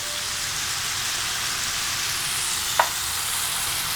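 Onions, garlic and jalapeno sautéing in sesame oil, giving a steady, hissing sizzle throughout with one brief clack of a utensil near the end, close and alone.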